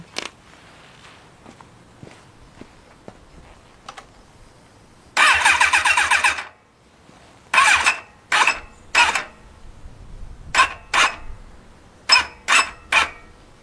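A motorcycle's starter whirs in several short bursts while restarting an already warm engine, one longer crank followed by repeated brief attempts, with quiet clicks and pauses in between.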